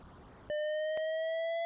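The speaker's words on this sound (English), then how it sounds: "And the alarm goes off." An alarm in the 1987 video game Maniac Mansion, set off as a pool cooling nuclear reactor rods drains: a loud, steady electronic tone starts abruptly after faint noise and holds, with a couple of brief clicks.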